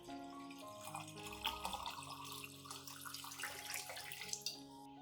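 Water poured steadily into a container to dilute an orchid nutrient solution with one liter of water, a continuous, faint splashing stream lasting about five seconds with no talking.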